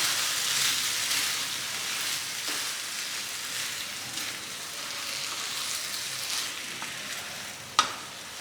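Soaked basmati rice sizzles with masalas in a pan as it is stirred, a soft continuous frying hiss broken by light scrapes and a sharp clink near the end.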